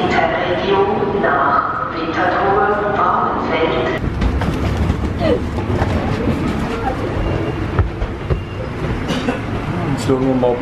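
A train runs on rails with a steady loud rumble and faint clickety-clack, heard from inside, while a person talks over it in the first seconds.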